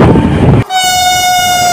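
The Kanchan Kanya Express arrives at Siliguri Junction: heavy rolling rumble, then a sharp cut into a loud, sustained horn blast held to the end, close by and with no voices.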